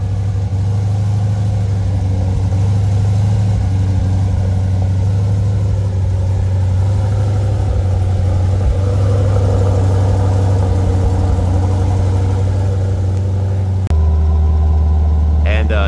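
A C8 Corvette with a titanium exhaust idles after a cold start with its valves closed, a steady deep low rumble held close and loud throughout, ending with a brief shift in tone near the close.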